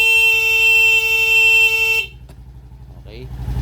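A motorcycle horn blares in a steady, loud honk for about two seconds, then cuts off, leaving an idling engine rumbling alone underneath.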